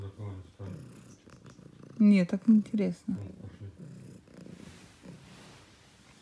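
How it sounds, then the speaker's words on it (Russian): A cat purrs close up as a low steady rumble, with people talking over it throughout and a few louder voiced moments in the middle. "Прям мурлычет."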